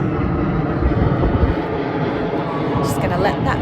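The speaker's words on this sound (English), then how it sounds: "oops, there's a plane." A fixed-wing airplane passing overhead gives a broad, steady roar that fills the background throughout, fairly loud and continuous.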